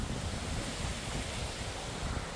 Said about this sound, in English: just sit and listen to the sound of the running water